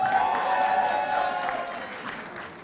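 Audience applause at a university Model UN closing ceremony, a steady wash of clapping with some cheering filling the hall throughout, loud and continuous.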